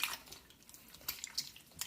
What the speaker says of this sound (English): we're going to squish this into the water by hand and just break the starter down, stir it up a little bit